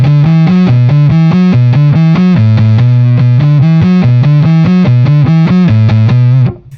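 Jolana Galaxis electric guitar from 1978 played in humbucker mode through heavy fuzz, a loud, saturated riff of repeated picked notes shifting between a few pitches, sustained for several seconds before cutting off abruptly.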